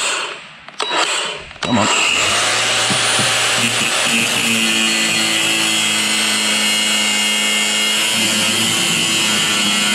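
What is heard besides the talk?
power tool grinding during AV monitor installation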